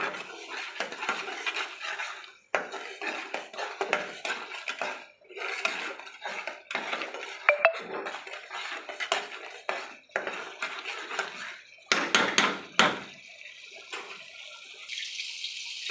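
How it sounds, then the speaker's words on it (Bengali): Cashew paste, curd and spices being stirred and fried in a pan, with a spoon scraping and clinking against the metal in repeated bursts, fairly close and steady, with no talking. "এবার আমি ভালো করে সব দিয়ে কষিয়ে নেব যতক্ষণ না তেল ছাড়ে"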